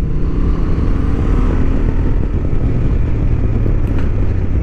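A 2023 Honda XL750 Transalp is ridden on a racing track, giving a loud, steady engine drone blended with heavy wind roar that holds constant throughout, with no speech.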